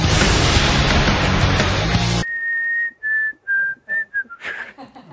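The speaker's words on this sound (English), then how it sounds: "They dared me to whistle because I love whistling." After a burst of loud noise cuts out, a person whistles a short, clear melody of several distinct notes, close and alone.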